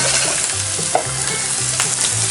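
Wild shrimp sizzle and crackle steadily in a hot pan, a loud close frying hiss with small pops and scraping stirs throughout.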